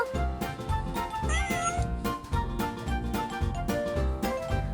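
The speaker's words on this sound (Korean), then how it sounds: "어, 고양이다. 고양이." A cat meows at a traditional market, its calls faint and set against a busy backdrop of music.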